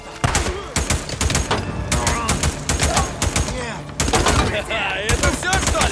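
Rapid bursts of gunfire in the video game Days Gone, dense volleys of loud close shots repeating through the whole stretch, with shouting voices mixed in between.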